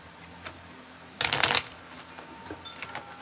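Poker cards are shuffled in one quick, loud riffle lasting under half a second, close by, set against a quiet room with faint handling before and after.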